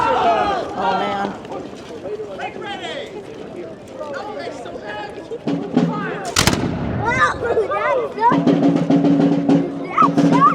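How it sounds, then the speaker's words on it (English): Muskets at a reenactment of the Battle of Menotomy fire gunpowder blanks into the air in Arlington, with one sharp crack cutting through the steady chatter of a nearby crowd. "They're firing gunpowder into the air. It's exploding."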